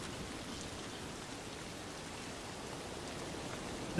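Steady rain pours in Escape from Tarkov, a soft, even hiss of drops on surfaces that holds at a low, constant level for several seconds, with no voices.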